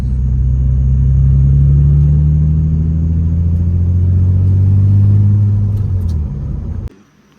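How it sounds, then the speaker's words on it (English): Idling engine of an Infiniti G35 after an engine swap, a loud steady low rumble that holds for about seven seconds, its pitch easing down before it cuts off abruptly, with no talking. "I'll just go drive it to get it up to temp."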